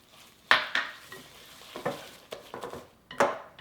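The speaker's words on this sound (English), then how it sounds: "I want to take the whisk and just start whisking that sugar with those egg whites" Sugar whisked together with egg whites and butter in a bowl, heard as a series of irregular soft scraping and clinking strokes of the whisk against the bowl, close and fairly quiet.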